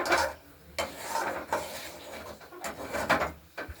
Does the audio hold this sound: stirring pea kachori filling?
yes